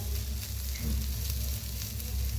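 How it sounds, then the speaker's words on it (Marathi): Eggplant roasting on a tawa griddle, a steady close sizzle with soft crackling that runs throughout, brief and unbroken. "असं दोन्ही साईडने छान असं भाजून घेऊया"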